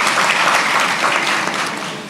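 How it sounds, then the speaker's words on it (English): A graduation ceremony crowd at Sir Arthur Lewis Community College in St. Lucia breaks into dense, sustained applause, many hands clapping at once, loud and steady, easing slightly toward the end. "That's something to applaud, put your hands together for."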